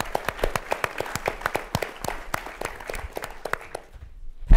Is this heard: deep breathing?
no